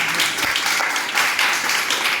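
Audience clapping in a teaching session, a dense, steady patter of many hands that holds at one level from start to finish, fairly loud and close, with no talking.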